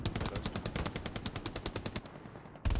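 Machine gun fire in the video game Hell Let Loose during a competitive match: a long, loud, rapid-fire burst of evenly spaced shots, close and dense, with a heavier blast at the very end.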